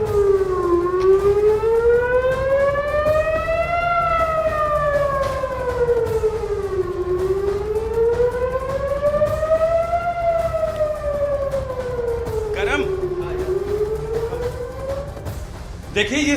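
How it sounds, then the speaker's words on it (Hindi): Air raid siren warning of an incoming missile in Israel, a loud wailing tone rising and falling in slow repeated cycles, sustained throughout, with faint background noise and brief knocks near the end. "ये सायरन मिसाइल से पहले बजता है"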